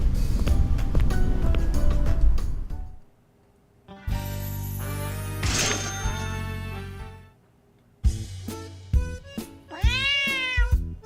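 Cats meow in a cat cafe in the video game Noel the Mortal Fate. Several distinct, close meows rise and fall in pitch, separated by brief silent gaps.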